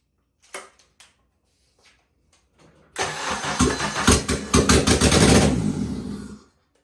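Acura RSX engine cranks in a few short bursts, then catches at about three seconds and runs loud and rough for several seconds before cutting off, with no talking over it.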